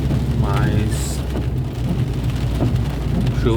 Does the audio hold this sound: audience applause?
no